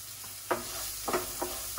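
Spices—black pepper powder, turmeric and asafoetida—sizzling softly in a frying pan while being stirred, with several short scraping stir strokes over a quiet, constant sizzle.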